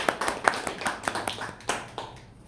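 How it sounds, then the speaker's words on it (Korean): Brief round of thanks applause from a small group at an administrative association committee meeting in a meeting room: separate, fairly soft claps in an irregular patter that fades out within a few seconds. "감사의 박수."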